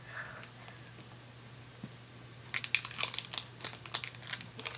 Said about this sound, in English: I'll open the package right now so I can show you what it looks like inside